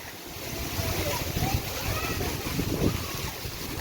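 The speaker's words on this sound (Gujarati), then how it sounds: "મસ્ત વરસાદ આવે છે પણ." Heavy rain falls in the Velanja area in a dense, even hiss with splashing, while faint voices murmur in the background.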